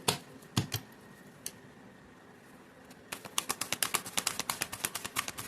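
Tarot cards shuffled by hand in quick, rapid riffling bursts: two short snaps early, a pause, then a dense run of crisp, close clicks that keeps going to the end.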